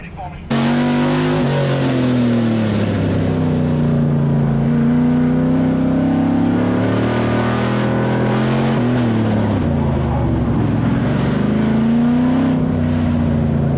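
Street stock race cars roar around a dirt oval at Auburndale, a loud sustained engine drone whose pitch rises and falls as the pack passes and accelerates, with a race announcer talking over the noise.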